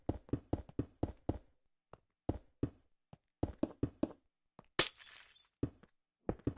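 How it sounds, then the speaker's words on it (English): In a building video game, a rapid series of sharp knocks and taps leads into one bright, crashing burst of glass breaking, followed by more crisp clicks in an otherwise silent scene. "Ah, the sound of breaking glass."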